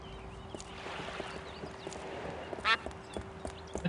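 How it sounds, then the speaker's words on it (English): Ducks quack in the video game Escape From Monkey Island, with one clear burst of quacking rising above a soft, steady ambient game background and faint clip-clop-like taps. "Oh, a lot of quacking going on."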